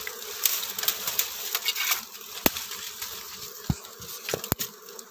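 Wild bees buzz steadily in the open while hunting for a wild honey nest, a continuous insect drone with a few sharp clicks and taps breaking through.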